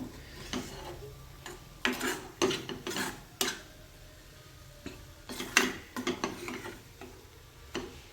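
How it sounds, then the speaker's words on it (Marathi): Vegetables for undhiyu are sautéed in oil with a utensil scraping and clinking against the pan in irregular knocks and scrapes, quiet and close, with a faint sizzle underneath. "हा पण छानपैकी तेलात चांगला परतवून घ्यायचा आहे."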